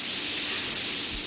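Steady rain falls in a dense, even hiss with no distinct drops standing out, a continuous wash of water noise throughout.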